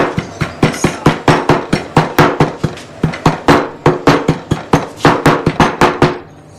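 A knife chops fennel on a cutting board for chicken with fennel, a quick run of sharp, evenly spaced thuds close by, loud and unaccompanied, easing off at the end.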